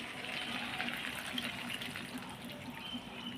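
Cornflour stirred into water is poured into a cooking pot of fish curry, a steady, soft liquid gush running without pause at low volume.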